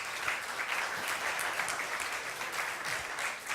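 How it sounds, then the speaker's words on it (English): Sustained audience applause at an evening event, a dense steady wash of many hands clapping, fairly distant and even throughout. "One more round of applause for the last"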